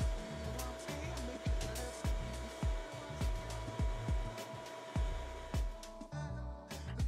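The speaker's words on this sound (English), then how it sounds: "For the end cuts, I like to use a bandsaw." A bandsaw cuts the ends of wooden mountainscape pieces, its motor holding a steady whine with repeated rasping bursts as the blade bites through the wood, close and fairly loud throughout.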